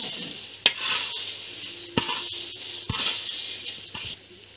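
Flattened rice (poha) is stirred in a pan with a soft dry rustle and light sizzle, broken by several sharp clinks of the spoon against the metal.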